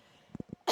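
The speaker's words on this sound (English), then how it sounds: "Hold on, I need to cough." A person on a podcast coughs, a quick cluster of three short muffled coughs turned away from the microphone, followed by a louder sharp burst, recorded close in a quiet room.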